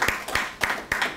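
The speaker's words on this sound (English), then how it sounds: "Let's give them another round of applause." Several bursts of audience applause ring out as thanks for four students at an internship presentation, close and fairly loud, in quick uneven pulses.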